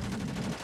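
Gunfire in the video game Fortnite, a dense burst of rapid shots that fills the short moment loudly before easing off.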